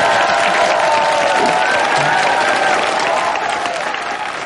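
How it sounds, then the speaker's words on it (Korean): A studio audience at a Korean news show's anniversary special applauds Roh Hoe-chan with loud, dense, sustained clapping that slowly fades toward the end. "노회찬 오늘 박수 부탁드립니다"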